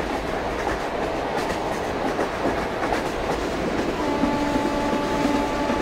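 A train in Indian Train Simulator (MSTS) with a WAP4 locomotive hauling the Avadh Express, a steady rolling rumble with clickety-clack of wheels, and a sustained horn tone coming in toward the end, no talking.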